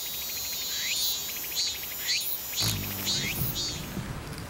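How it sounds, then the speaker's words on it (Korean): Repeated rising chirping calls from a male cicada at daybreak, several short phrases in a steady rhythm, fairly close, with a low thump partway through. "날이 밝자마자 암컷을 찾는 수매미"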